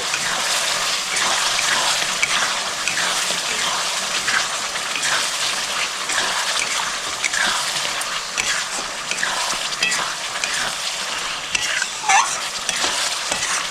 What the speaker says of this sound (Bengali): দু চামচ সয়া সস দিয়ে দিচ্ছি। দিয়ে ভালো করে মিক্স করে নিচ্ছি।